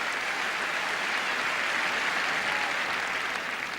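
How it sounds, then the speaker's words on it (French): Tennis crowd at Roland Garros applauding after a point, a continuous, even wash of clapping from a large stadium audience, heard alone. "Ah oui, quand même, un petit applaudissement"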